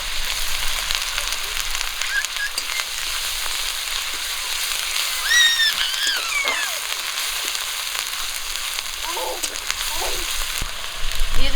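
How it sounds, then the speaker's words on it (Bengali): Green chili, whole cumin, ginger, garlic and onion paste frying in hot oil for a Bengali rohu fish curry, a steady close sizzle with light crackle and a few brief stirring scrapes, with no talking. "গরম তেলে দিয়ে দিচ্ছি কাঁচা লঙ্কা গোটা জিরে আদা রসুন আর পেঁয়াজ বাটাটা দিয়ে দিচ্ছি"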